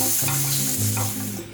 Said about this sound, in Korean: 백포도주, 소금, 후추를 넣고 분홍색이 날 때까지 볶아주세요.